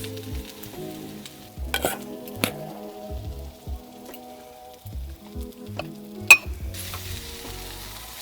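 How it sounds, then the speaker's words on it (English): Cinnamon toasts in a little oil in a backyard kitchen, giving a soft intermittent sizzle broken by scattered clinks and scraping stirs, fairly close and without talk. "A little bit of oil, a little bit of cinnamon. Just toast it up a little bit."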